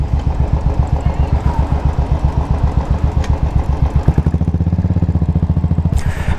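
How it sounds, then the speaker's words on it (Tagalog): A Royal Enfield Classic 500 motorcycle engine thumping at idle with a steady, loud single-cylinder pulse close by, then the beat slowing and deepening slightly near the end. "gamit ko ngayon yung Royal Enfield Classic 500 na motor ng tropa"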